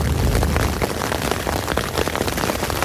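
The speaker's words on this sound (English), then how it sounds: "here comes some more hail" Hail and rain drum steadily on a lightweight tent, a dense close patter of sharp hits over a constant wash, loud throughout with no voices.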